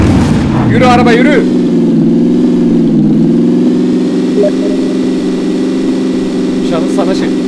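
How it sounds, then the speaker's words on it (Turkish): Car engine in PUBG as the vehicle drives along, a loud steady mid-pitched drone holding throughout with slight variations, with someone speaking over it at the start. "Yürü araba yürü."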